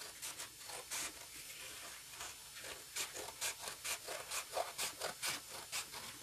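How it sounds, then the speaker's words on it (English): Scissors or a blade cut through a cardboard egg crate, trimming off the excess pieces: close, quiet scraping and snipping, irregular at first and then settling into a quick rhythmic run of cuts near the end. "So we're going to go cut off these excess pieces because we really want where the eggs nest."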